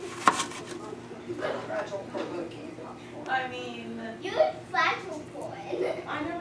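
A knife slices open a beefsteak polypore mushroom with a sharp cutting snap near the start, then soft handling sounds beneath a person talking nearby.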